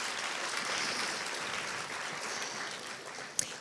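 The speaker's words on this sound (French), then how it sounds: "Vous pouvez vous applaudir." An audience at a French research-results event applauds, a steady broadband wash of clapping held at an even level throughout, with one sharper knock near the end.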